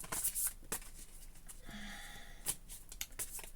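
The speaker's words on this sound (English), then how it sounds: "Oh, the cards just shuffle so smoothly." Unfolding Path tarot cards are shuffled by hand in a quiet room, with crisp riffles and soft flicks coming in short bursts close to the microphone.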